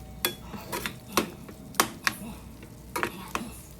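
A spoon stirs a shrimp dish in a pan, giving sharp, irregular metallic clinks and scrapes spaced a fraction of a second apart over low kitchen background noise.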